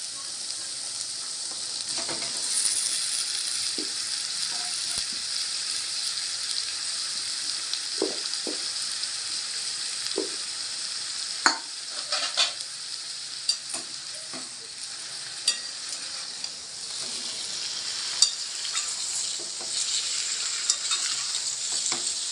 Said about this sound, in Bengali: এবার এখানে আমি কড়াইতে পুরো আলুটা দিয়ে দেবো।